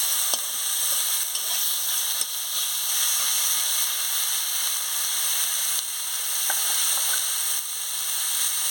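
Pumpkin leaf paste sizzles steadily in a hot pan as it is stirred, a close, continuous bright hiss of frying with small scraping clicks from the stirring now and then.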